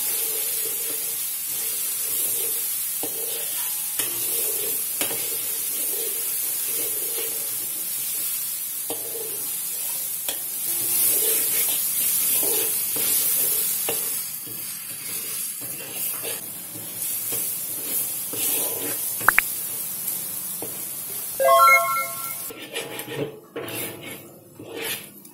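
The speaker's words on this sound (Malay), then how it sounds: "Gorengkan bahan-bahan ini sehingga naik bau wangi dan tukar warna." Shallots, garlic and ginger frying in a pan for chicken ginger congee, giving a soft, steady sizzle and hiss with occasional light clinks of utensils toward the end.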